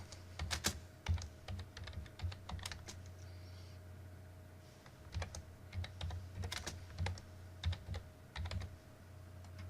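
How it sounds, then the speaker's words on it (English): Quick bursts of keystrokes on a computer keyboard, soft clicking taps in irregular clusters with short pauses, close by and quiet, while typing a header in LibreOffice Writer. "I'll type My Lesson 4 title."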